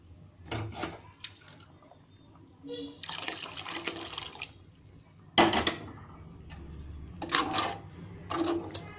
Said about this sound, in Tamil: இதுக்கு தேவையான அளவு தண்ணியை ஆட் பண்ணிக்கலாம்